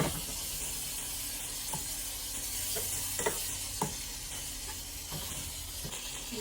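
Butter melts and sizzles in a heated pan before salmon is added, giving a soft, even hiss. Scattered faint pops and light clicks sit on top, with no talking.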